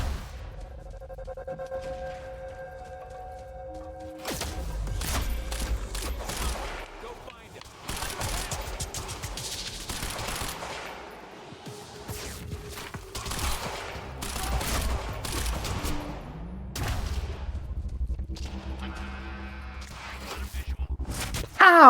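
Heavy machine gun fire in the shooter game Quantum, loud bursts of rapid shots spread across the whole stretch with brief pauses and a mechanical hum between volleys, while someone talks over the action.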